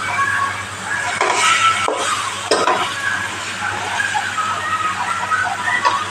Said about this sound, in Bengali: এবার একটু মশলার সঙ্গে এটা কষিয়ে নেব।